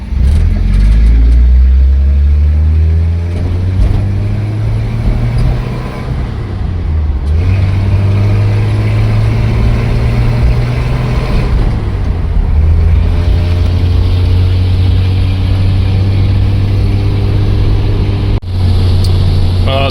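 A 1950s flathead-engined classic car with manual drum brakes pulls away in first gear, its engine droning loud and close as the pitch climbs, drops at a lift-off, then winds up again.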